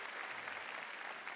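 An audience at an Adobe MAX watch party claps in a dense, steady burst of applause that holds evenly for just over a second.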